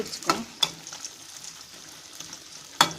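Brinjal thokku being stirred in a pan while it fries, giving a soft background sizzle with a few sharp scraping knocks from the spoon at irregular moments.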